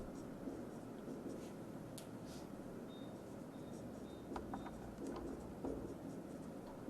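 Pen scratching on paper while working out a matrix inverse by hand, soft steady scribbling with a few brief taps, close and quiet over a faint background hum.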